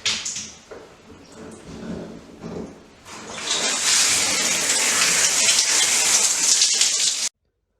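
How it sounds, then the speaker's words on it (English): Running water splashing over shower glass being rinsed after a ClearShield glass restoration, a steady loud hiss that builds after a few seconds and stops abruptly. "running water and rinsing off the ClearShield"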